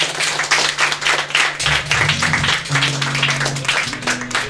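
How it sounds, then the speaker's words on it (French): Audience at a small venue concert applauds a violinist, quick clapping from a modest crowd with a low sustained musical tone humming underneath. "donc on peut l'applaudir."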